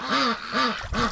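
Close, loud quacking from a duck beside a fresh tub of bath water: two or three raspy nasal calls in quick succession, ending with a brief scuffling sound.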